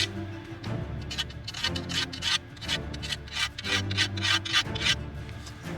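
A file rasps burrs off a steel chainsaw bar in quick, rhythmic back-and-forth strokes, close and fairly loud, about a dozen scraping passes in a row.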